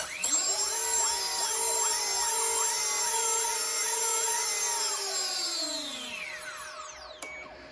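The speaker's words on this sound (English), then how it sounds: "as we raise the throttle, we can go ahead and hear the motors twitching back and forth" The electric motors of a twin-motor RC plane set up for differential thrust whine at high pitch, sweeping up and down as they twitch back and forth, then spool down near the end. The sound is close, steady and alone.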